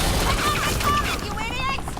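Police officers firing guns in a Batman video game, a dense burst of shots blended with game effects and a voice, loud and close throughout.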